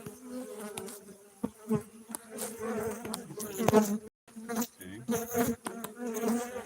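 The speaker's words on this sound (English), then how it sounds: "we got bees" Honey bees buzz at a beehive, a dense, close hum with individual bees droning loudly past; a person says a brief word.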